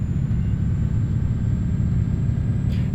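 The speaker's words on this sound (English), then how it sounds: "But listen to that engine noise." Truck engine in Euro Truck Simulator 2 gives a steady, loud low rumble that drones on without change, with a faint high whine above it.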